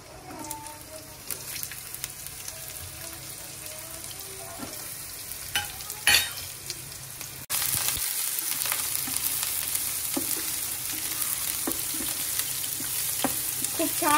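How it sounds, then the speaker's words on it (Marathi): Chopped onion hits a hot non-stick pan on an electric cooker for khichdi, a soft scattered sizzle jumping to a louder steady frying hiss midway, with no talk. "आता मी यामध्ये टाकणार आहे कांदा."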